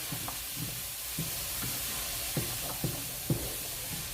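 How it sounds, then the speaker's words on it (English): Onions and peppers sizzle in a pot as they are stirred, a constant hiss broken by several light knocks of the spoon against the pot, close and fairly quiet, without speech. "So, give your onions and peppers a little stir here."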